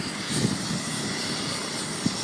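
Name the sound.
helicopter flying low to land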